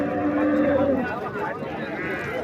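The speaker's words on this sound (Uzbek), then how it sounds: "Sigirlar." Cattle at an open livestock market moo loudly and nearby in one drawn-out call, with crowd noise and chatter around them.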